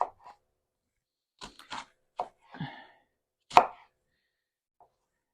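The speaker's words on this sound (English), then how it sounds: "I'm going to cut this onion up for" An onion is rough-chopped with a knife on a board, giving about five separate sharp chops spread unevenly over a few seconds, close and fairly quiet, with near silence between cuts and no talk.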